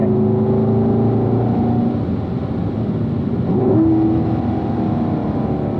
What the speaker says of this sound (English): Now start accelerating as you apex. Squeeze that pedal down. Getting that upshift.